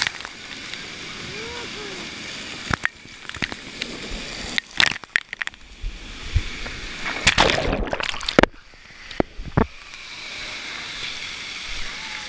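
Water rushing and splashing on the Reese's water slide at Hershey Park, a steady wash broken by sharper sloshing bursts, with voices in the background.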